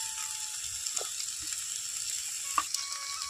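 Chopped onions and tomatoes frying in oil give a steady, bright sizzling hiss, with a few faint clicks and taps from the pan at intervals, quiet and close.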